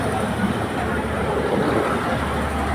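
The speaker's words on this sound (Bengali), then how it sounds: "চাঁদপুর থেকে ছেড়ে আসা সাগরিকা এক্সপ্রেস ট্রেনটি এইমাত্র অবতরণ করলো ফেনী স্টেশনে" Sagarika Express from Chandpur pulling into Feni station, a steady dense rumble of the train and station din, loud and continuous over a few seconds.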